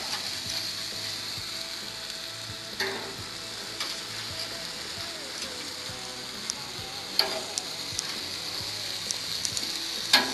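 Pork spareribs sizzling on a hot grill, a steady crackling fry with scattered pops and spits, close and continuous with no talk.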